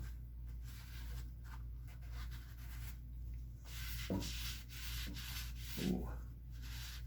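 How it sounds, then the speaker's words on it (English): A rag wipes excess Rubio Monocoat oil finish off a wooden surface, giving steady, soft rubbing strokes close by, some slightly louder at the ends, with no speech. "Right now I'm just wiping off the excess"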